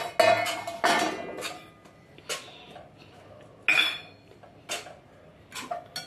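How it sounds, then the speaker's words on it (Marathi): A utensil clanks and scrapes against a metal pan while millet and wheat flour roast on low heat, giving quiet, sporadic metallic knocks with near-silent gaps between them. "मस्त भाजून घ्यायचं, याला तूप सुटेपर्यंत मस्त भाजायचं हे पिठाला"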